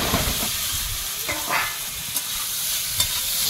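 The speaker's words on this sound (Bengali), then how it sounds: "এবারে এই তেলের মধ্যে আলুটা দিয়ে ভেজে নেব।" Potatoes frying in hot oil in a home kitchen, a dense close sizzle with a few spatula scrapes and clinks over a short stretch, no talking.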